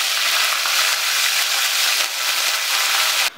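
A loud, steady hiss of curry leaves frying in hot oil, dense and continuous for a few seconds before it abruptly drops away.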